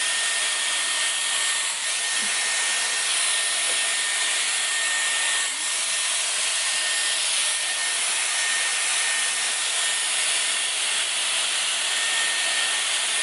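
Dyson Airwrap hair styler running on its highest heat setting, a loud, steady, close-up blowing rush of air that continues unbroken throughout with no talking.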